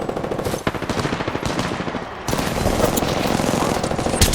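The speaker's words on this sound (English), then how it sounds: "Listen up, I'm getting shot at." Rapid automatic gunfire in the video game Apex Legends, with dense bursts of shots rattling loudly and nearly continuously, sharper cracks standing out, and no speech.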